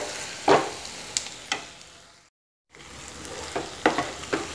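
Sautéed okra being stirred into a spicy tamarind kara kuzhambu gravy in a pan, giving scattered scraping stir strokes over a soft frying sizzle, with a short silent gap midway and no talking.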